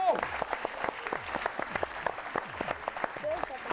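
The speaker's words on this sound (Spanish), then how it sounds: "¡Un aplauso para ellos!" An audience at a children's television show bursts into applause, dense rapid clapping that carries on steadily, close and lively, with occasional cheers over it.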